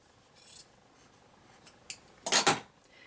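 Scissors snip through quilt fabric between two stitched lines, a few soft scattered cuts followed by a louder, longer crisp slicing stroke near the end, close up in a quiet room.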